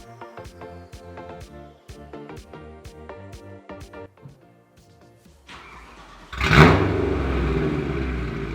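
A warm BMW M3 engine starts and revs up, the roar jumping to a loud, sustained level after a stretch of quieter ticking and idle-like sound.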